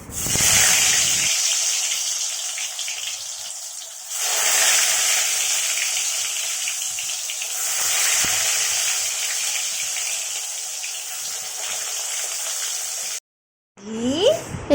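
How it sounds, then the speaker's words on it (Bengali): Eggplant slices fry in ghee in a pan, giving a steady, close sizzle with a brief break near four seconds. The frying carries on until it cuts out abruptly just before the end. "এখন আমি বেগুন ভাজবো বেগুন ভাজা ঘি দিয়ে"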